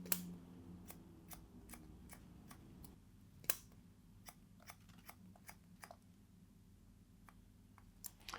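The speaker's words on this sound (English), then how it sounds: "Now what we'll do is cut the fringe in," Scissors snip through hair while a fringe is cut during a haircut, giving a close, irregular series of sharp, crisp clicks with brief pauses over a quiet room.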